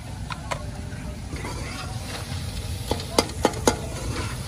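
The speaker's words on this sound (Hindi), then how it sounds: "और इसकी भुनाई कर लेंगे अच्छे तरीके से।" Chicken liver roasting with salt and spices in a pan, a steady sizzle with spatula scrapes and a few sharp clanks near the end, without any voices.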